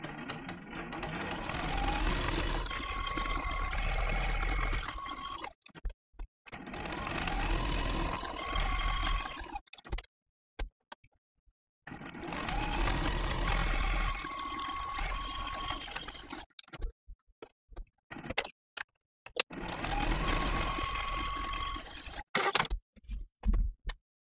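A sewing machine stitches raw-edge applique on a mini quilt, running in four steady bursts of a few seconds each separated by brief pauses, close and fairly loud with no talking.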